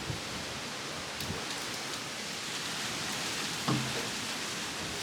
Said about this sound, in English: the rain has now started to like come down and pour compared to all day